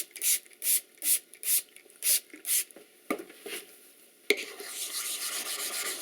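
A hand plane blade rubbed back and forth on a sharpening stone, seven rhythmic close strokes followed by a few softer passes and a sharp tap, then a steady hiss.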